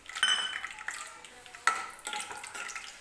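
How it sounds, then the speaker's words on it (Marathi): Peanuts tipped into hot oil for frying while cooking Maharashtrian raw-mango rice, giving a faint crackling sizzle with clinks of a metal pan and spoon, plus a couple of sharper knocks. "सुरुवातीला मी शेंगदाणे तेलामध्ये टाकून घेते."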